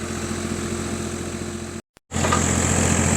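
Oak felling with chainsaws droning steadily in the distance at a low idle-like hum, cutting out briefly for a moment of silence before resuming just as evenly.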